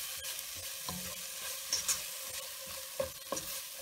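A spoon stirs coriander, cumin and garam masala powders roasting in oil in a pan for brinjal masala, with soft sizzling and a few light scraping knocks against the pan.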